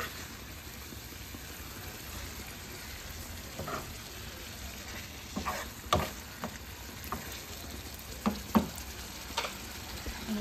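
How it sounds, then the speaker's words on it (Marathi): Stuffed eggplants being stirred into gravy in a pan, a low simmering sizzle with a handful of soft spoon scrapes and taps growing more frequent toward the end. "त्याच्यावर मस्त ग्रेव्ही ओतायची अशी मिक्स करून घ्यायचं ग्रेव्हीमध्ये वांगा"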